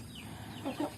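Chickens on a poultry farm, handled during NDAI vaccine injection into the chest, give two short, fairly close clucks late in the clip over a steady low background hum.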